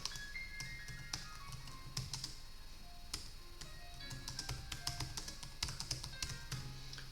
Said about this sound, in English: I just want to type this out.